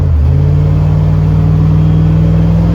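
A car engine on a road trip in California, droning loud and close, its pitch climbing briefly at the start and then holding a steady, rumbling hum as the vehicle pulls along.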